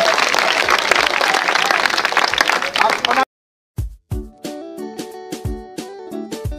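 Congregation at a church gathering applauding to acclaim the Lord, dense sustained clapping from many hands for a few seconds, then cut off abruptly and followed by music.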